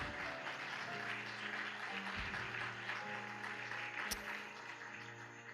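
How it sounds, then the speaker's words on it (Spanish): A church congregation claps together in a steady, dense wash of applause that continues throughout, moderately distant and fairly quiet, with a faint tone running underneath. "le demos una ofrenda de palmas a nuestro Dios en esta hermosa mañana"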